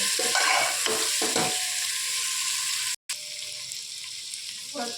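Papaya and potato pieces fry in hot oil with a steady, close sizzle and crackle, broken by soft stirring scrapes and one brief dropout of silence midway.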